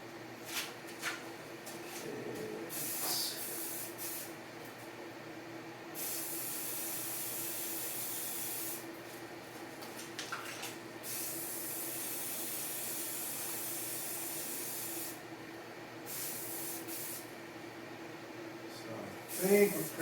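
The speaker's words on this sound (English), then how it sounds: "I'm going to go back and hit it again with a regular, like a gray automotive primer" Gray Rust-Oleum metal primer is sprayed from an aerosol can onto car fenders in several long, steady hissing bursts separated by pauses, with faint speech underneath.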